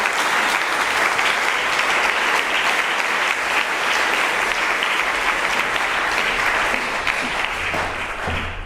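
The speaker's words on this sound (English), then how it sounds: "So a big applaud for all our panel." A conference audience at a soil health event gives a panel steady, sustained applause, a broad even wash of clapping that holds strong before tapering slightly at the end, with no talk over it.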